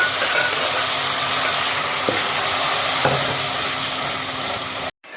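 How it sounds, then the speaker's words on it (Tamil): Tomatoes go into a pan of golden fried onions and curry leaves, bringing a loud, steady sizzle and hiss, two faint spoon taps, and an abrupt cut near the end. "இப்போ தக்காளி ஊற்ற போறோம்"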